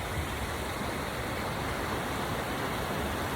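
Flowing water rushes outdoors in a natural setting, a steady, full broadband wash that stays even throughout with no voices over it.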